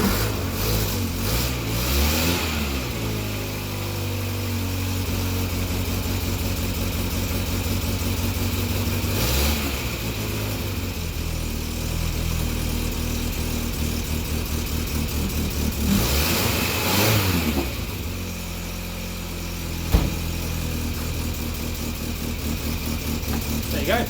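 A Morris Minor car engine, back running after a head gasket replacement, idles and is revved several times in rising-and-falling surges, close by, with a slight exhaust blowing; a voice talks briefly over it.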